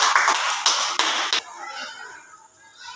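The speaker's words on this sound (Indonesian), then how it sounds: "Tepuk tangan untuk siapa?" A short burst of applause from a classroom group, several claps blending for about a second and a half, then fading into quiet room noise.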